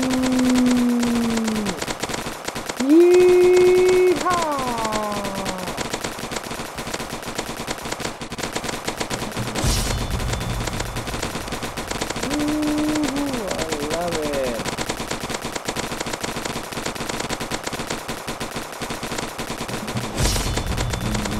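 Ghost gun from Roblox Zombie Attack firing in rapid sustained automatic bursts, loud and continuous, with wavering electronic tones layered over the gunfire and someone talking throughout.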